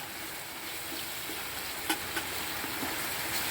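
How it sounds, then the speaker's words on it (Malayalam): Kottayam-style beef fry with curry leaves is stirred in a large deep pan, a continuous low sizzle with a couple of soft scraping knocks from the spoon, close and fairly quiet, no talk. "ഇത് വലിയ കുഴിവുള്ള പാത്രമായതുകൊണ്ട് ഇനി നന്നായിട്ട് ഇളക്കി കൊടുക്കുക നന്നായിട്ട് വാടട്ടെ"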